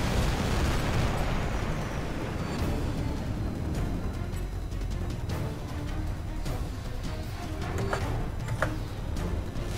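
A missile strikes the player's aircraft in the jet combat game HAWX 2: a dense, rumbling explosion roars at steady loudness through the whole stretch, with scattered sharp bursts and crackles layered over it.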